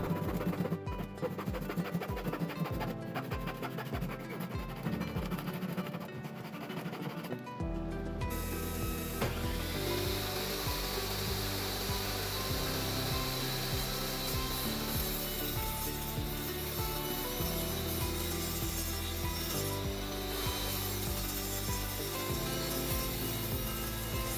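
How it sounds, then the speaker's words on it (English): Handsaw cutting through the overhanging edge of a wooden cutting board, a dense continuous rasping that runs loud and close for most of the stretch, with a brief quieter lead-in at the start. "we're going to use a handsaw to cut off all the overhang off of one side of the board"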